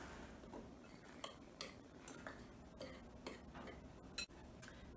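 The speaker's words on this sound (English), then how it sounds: "Stir this in with your dry ingredients." A spoon stirring dry ingredients for cornjacks in a bowl makes faint, scattered clicks and scrapes against the side, quiet and irregular with no voices.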